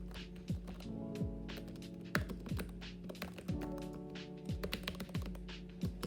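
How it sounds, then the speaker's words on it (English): Random letters typed on an ROG Falchion RX Low Profile mechanical keyboard, a steady run of close, crisp clicky keystrokes with a few heavier taps, over a low background hum, with no voices. "it definitely still brings the mechanical keyboard experience. And we'll see that when I just do some random letters"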